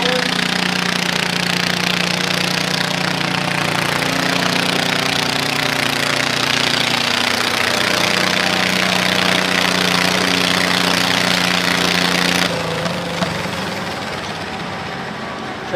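A garden tractor at a pull competition drones loudly and steadily as it motors down the track, a rough mid-pitched engine roar that drops away abruptly near the end, leaving quieter background.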